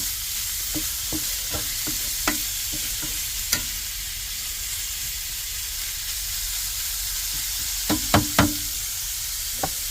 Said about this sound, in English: We're going to let that brown up a little bit.